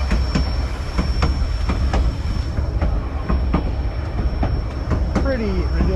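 The White Pass railway train rolls along its rails, a loud, constant rumble with regular clickety-clack wheel beats at steady intervals and a rising squeal of wheels near the end, heard close from aboard.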